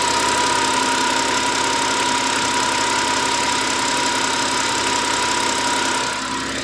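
A BMW N52 petrol engine idling, a smooth, steady hum with a faint fine ticking, heard close and loud without pause, easing slightly at the very end.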